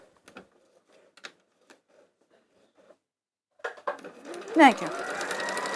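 A sewing machine starts up and sews a straight line down scrap fabric for a yo-yo bag, its motor whirring steadily near the end after scattered quiet handling clicks and a short spoken remark.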